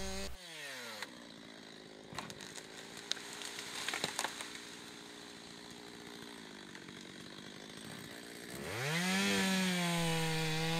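Chainsaw felling trees on a heath nature reserve managed for butterflies, engine running steadily at moderate revs with a few surging bursts, then revving up loudly near the end.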